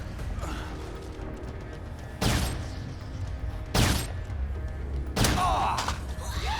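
Enemy gunfire in the zombie video game Dead Rising 2 comes as three loud, sharp bursts spread a second or so apart, each cracking out over a steady background of game ambience.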